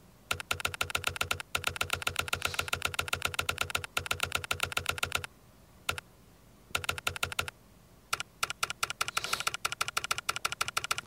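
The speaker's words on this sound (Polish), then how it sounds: "Każdy ma troszeczkę inny dźwięk. Możemy sobie sprawdzić na stronie internetowej, jak one brzmią." Clacky mechanical key switches of a Logitech G513 Carbon keyboard typed in fast, steady runs, close up, with a couple of short pauses between bursts.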